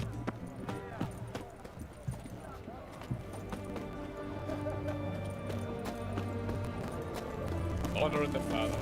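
Roach, the horse in The Witcher 3, gallops with steady rhythmic clip-clop hoofbeats that run throughout, with a brief whinny and a voice speaking over the hooves.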